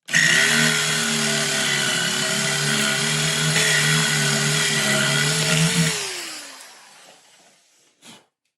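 A power drill boring a hole about 7 mm deep for a sim racing motor mount, a loud steady whine for about six seconds, then spinning down and stopping, with a brief click after.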